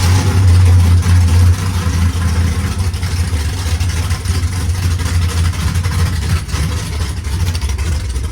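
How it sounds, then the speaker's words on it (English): A G-body car's engine is cranked over and settles into a steady, loud idle, with a deep low rumble that swells slightly at the start and then holds even throughout, with no talking. "let's crank it up and see what goes on. Build a little oil pressure there."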